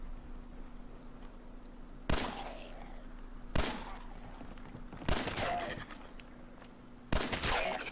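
Four single shots from a small rifle in Fallout 4, evenly spaced sharp cracks about one and a half to two seconds apart, each followed by a short echoing tail over a faint steady hum.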